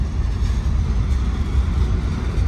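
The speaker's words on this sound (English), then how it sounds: "Very nice thing to see the train go by." A Union Pacific freight train rolls past in Dallas, Texas, a steady, loud low rumble of wheels and cars that holds evenly throughout without a break.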